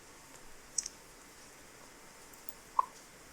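A computer mouse clicks twice, sharp and isolated, well apart, against a faint background hiss while adding a new plugin on a website's back end.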